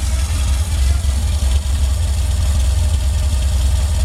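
A 1953 Volkswagen split-window Beetle engine with ceramic-coated exhaust idles steadily and loudly up close, a low, even burble with no talk over it.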